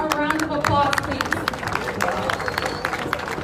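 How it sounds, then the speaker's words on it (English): A crowd applauds the Boston team at a people power meeting, clapping scattered and uneven across the room, with murmuring voices mixed in under the claps. "Give them a round of applause, please."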